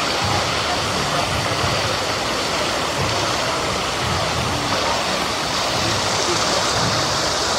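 Steady rushing water of the lazy river current at the Aquatica water park, a loud, unbroken broadband wash close to the listener, with a low rumble underneath and no talk.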